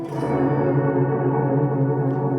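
A sustained guitar chord through a reverb pedal set to a very long decay, ringing out as a smooth, lingering pad that barely fades.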